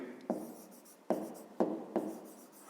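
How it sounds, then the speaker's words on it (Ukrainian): During a fifth-grade maths lesson, a pen or marker writes an answer in four short, separate strokes, each a crisp scratch that quickly fades, heard up close in a quiet room. "Записуємо тоді 2."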